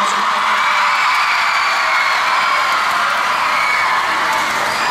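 A large crowd of children shouts and cheers at a public ceremony in Kupang, a loud, dense, continuous roar of voices sustained throughout.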